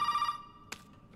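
Telephone ringing inside the horror video game Resident Evil 7, a bright electronic ring with a steady tone under faint background noise, followed by a couple of short sharp sounds.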